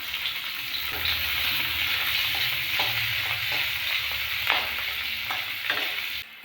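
Onion sizzles and crackles continuously in a frying pan, close and steady, with occasional stirring scrapes breaking through the hiss.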